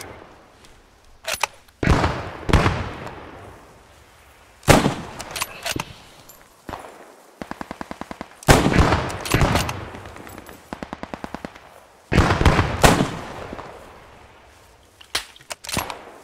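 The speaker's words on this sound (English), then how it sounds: "Rommel, we got fire coming in at us." Incoming gunfire in the World War II shooter PostScriptum: sharp single cracks and clustered bursts, with a couple of rapid machine-gun strings mid-stretch, arriving in irregular volleys between quieter gaps.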